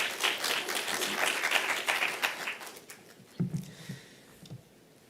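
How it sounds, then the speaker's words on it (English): Audience applause at the launch of a university research chair in the fourth industrial revolution, a dense patter of many hands lasting about three seconds, then fading to a few scattered claps. "A round of applause, please."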